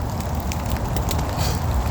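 A small campfire in a rainy forest crackles and pops in short sharp bursts over a steady hiss of rain and flames, close by and with no talking.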